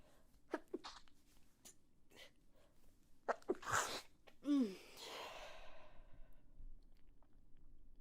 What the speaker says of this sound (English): And then I sneezed.